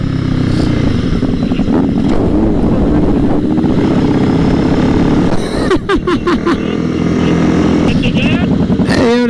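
A motorcycle, one of a Kawasaki Ninja 650, Honda CBR300 or Suzuki GSX-S750, ridden through city streets, its engine a loud continuous close drone with wind, while riders talk.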